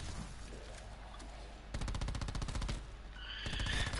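Rapid machine-gun bursts while killing zombies in a video game, fairly faint, with a long stretch of evenly spaced shots followed by another short burst over a steady game background.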